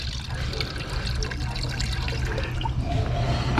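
Water runs out steadily during gravity separation of ash from burned computer chips, a continuous close splashing and trickling flow with no talk over it.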